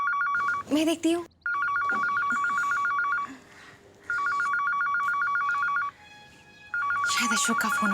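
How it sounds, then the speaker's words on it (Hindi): A phone rings with a bright electronic trill in repeated bursts separated by short pauses; a voice speaks briefly at the start and end. "शायद अशोक का फोन होगा"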